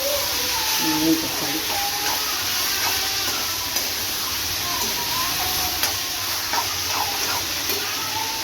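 Tomatoes sauté for thakkali thokku, a constant hissing sizzle filling the background while a person talks over it close by.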